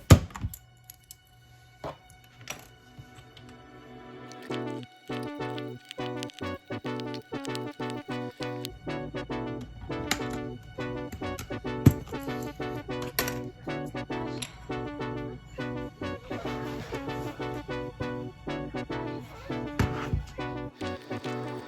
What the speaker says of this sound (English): So first step is to take off all the keycaps.